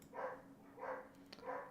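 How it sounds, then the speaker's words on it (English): Neighbours' caged dogs bark in three faint, evenly spaced bursts, muffled and distant as if from outside. "My neighbors have dogs in cages, and they bark all the time."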